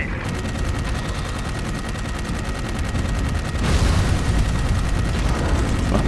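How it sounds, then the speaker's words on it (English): Sustained automatic gunfire from the video game Dark Void, a dense rapid stream of shots running unbroken and growing slightly louder and heavier partway through, with no talk over it. "I'm shooting you in the spots I'm supposed to shoot you at"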